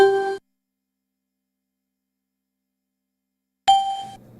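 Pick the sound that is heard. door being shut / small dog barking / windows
windows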